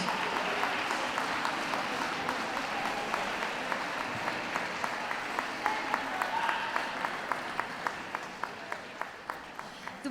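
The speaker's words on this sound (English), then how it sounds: "Come on, give them all a good round of applause." Audience applause fills a dog show ring, a broad, sustained patter of clapping at moderate distance with a few sharper, evenly spaced claps standing out near the end.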